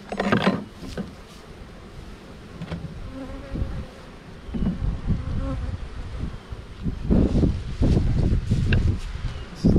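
Honey bees buzz in a bee yard while a hive is set up with a feeder can and a queen cage, a steady close insect drone swelling at the start and again toward the end, with some handling rustle and no talk.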